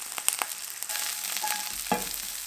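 Onions sizzle and crackle in hot olive oil close by, with a couple of stirring scrapes and no voices.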